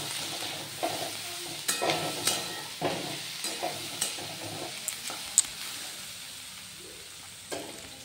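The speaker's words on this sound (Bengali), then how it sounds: "পেঁয়াজ রসুনটা দিয়ে ভালোভাবে নাড়াচাড়া করে আবার ওই ঢাকা দিয়ে রেখে দেবো" Onion, garlic and potato frying in a pan are stirred with a series of sharp scraping clicks over a soft, low sizzle, fairly quiet and without speech.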